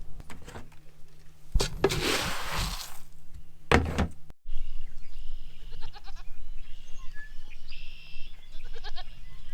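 Farm goats call out in short bleats at feeding time, heard close and fairly loud after a few bursts of rustling and clattering, with repeated cries layered over a low steady hum.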